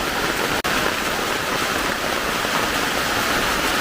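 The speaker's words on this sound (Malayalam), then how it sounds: "പടുതാ മേടിച്ചതിന് അന്ന് തന്നെ മഴ പെയ്തു." Steady, dense rain drums on a taut plastic tarpaulin, a continuous close hiss with a brief dropout near the start and no voices.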